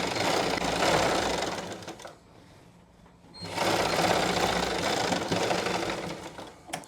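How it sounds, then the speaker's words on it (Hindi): A sewing machine stitches a pant hem, running in a loud, steady whir, pausing for about a second and then starting again at the same even pace. "फिर हम मोहरी के पास से सिलाई लगाना शुरू करते हैं"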